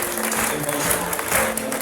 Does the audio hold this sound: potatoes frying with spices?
no